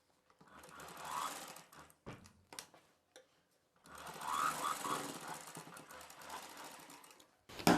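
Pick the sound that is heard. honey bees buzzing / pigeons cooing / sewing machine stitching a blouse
sewing machine stitching a blouse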